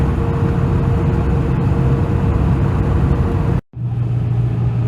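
Vehicle driving over a mountain pass toward Lava Hot Springs, Idaho, on a road trip to rescue a swather trailer: loud, steady engine and road drone throughout, briefly cutting out near the end before resuming.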